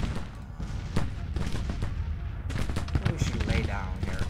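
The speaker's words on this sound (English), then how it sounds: "We are being under artillery fire bombarded here" Artillery bombardment in the Grand Tactician Civil War strategy game, a steady run of booms and gunfire bursts rumbling through the whole stretch, with faint voices mixed in.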